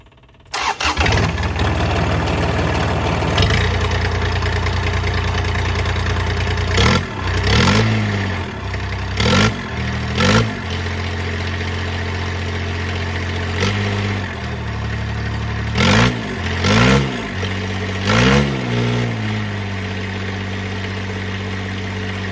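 A loud, raw Kubota diesel engine with straight pipes and no muffler starts and idles roughly, with a steady low rumble broken by repeated sharp revs and throttle blips.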